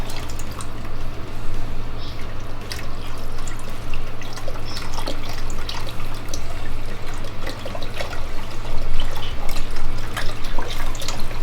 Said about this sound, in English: Add in your broth.